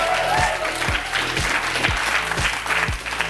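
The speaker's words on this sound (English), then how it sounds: "Can we get a round of applause for being in Barcelona?" Comedy club audience at a late-night show in Barcelona applauding steadily, a dense, continuous wash of clapping, with regular low thumps pulsing underneath throughout.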